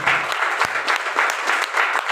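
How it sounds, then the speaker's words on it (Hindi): An audience at a company gathering claps enthusiastically, a dense burst of applause swelling in rhythmic waves for a couple of seconds. "हम सबसे गुरुदेव एक जोरदार तालियां होनी चाहिए"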